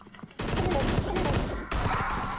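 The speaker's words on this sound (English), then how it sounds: "burst fire and I'm using the kind of power shots, the boosted shots" Burst-fire boosted power shots from a weapon in the game Crashland, dense rapid gunfire that cuts in sharply and keeps going, loud and close, with a short jolt partway through.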